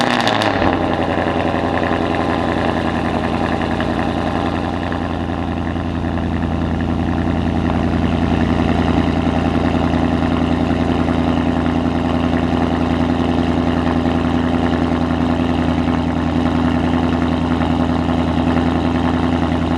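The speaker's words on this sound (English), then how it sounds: "the cold starts are insanely loud" A Ford Mustang GT with a Roush cat-back exhaust cold-starts with a loud sharp burst, then settles into a steady, deep, rumbling high idle that carries on alone throughout.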